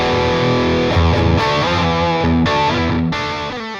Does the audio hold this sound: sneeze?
no